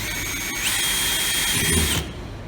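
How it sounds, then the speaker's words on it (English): A power drill whines steadily for over a second while drilling holes in a hinge, its high motor tone rising and then cutting off, with faint workshop noise before and after. "I'm going to drill the first hole here, and I'm going to drill the second hole here."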